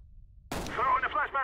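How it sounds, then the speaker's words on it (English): A grenade blast in Counter-Strike, one sharp close boom at mid-clip followed by a brief crackling tail, with gameplay chatter around it. "Grenade out."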